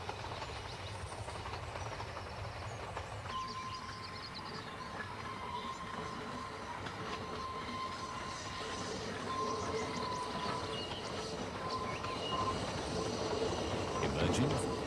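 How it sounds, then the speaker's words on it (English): Double Fairlie steam locomotive Merthyr Emrys rumbles steadily downhill toward Porthmadog, its wheels and wagons rolling continuously with a faint sustained squeal, while a voice speaks over it throughout. "watch Double Fairley Merthyr Emrys on its descent to Porthmadog"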